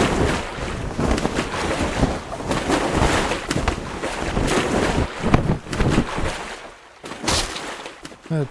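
A sailboat surges through strong wind in Sunkenland, with loud, rushing gusts and water wash that swell and ebb continuously, ending in a brief quieter lull before another burst.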